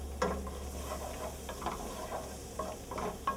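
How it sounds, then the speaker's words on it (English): Onions frying in a little olive oil in a pan, with a steady low sizzle and several soft scrapes and stirs spaced through the clip, close by with no talking. "You want to let your onions fry up a little bit before you put your garlic in"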